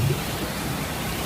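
Rain falls steadily during an outdoor protest rally in front of the presidential office, a dense, even hiss lasting the whole moment with no voices.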